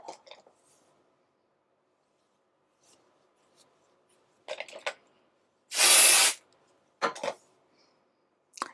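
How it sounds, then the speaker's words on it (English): A single close, loud burst of dry shampoo aerosol spray lasting about half a second onto a section of hair, surrounded by quiet rustling and handling of hair. "take another section, spray another section."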